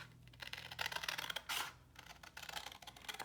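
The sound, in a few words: cutting a paper mini file folder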